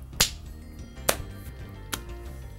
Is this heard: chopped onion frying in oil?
no